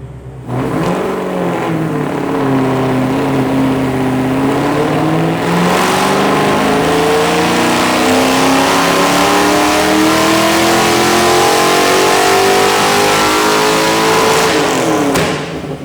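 A rebuilt, previously blown Mustang engine roars through a full dyno pull, climbing steadily in pitch for about fifteen seconds at very loud, close range before cutting off abruptly.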